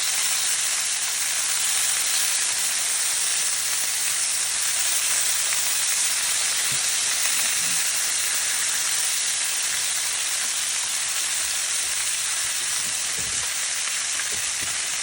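Lamb chops frying in a pan with only a little oil, giving a loud, steady, close-up sizzle and crackle that holds unbroken throughout.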